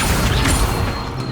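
A dense burst of magical spell effect from Hogwarts Legacy, the Accio summoning charm, rumbling and crackling loudly and steadily with no pause, no talk over it.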